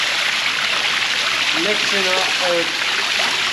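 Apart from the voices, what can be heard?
water running out of dairy farm tank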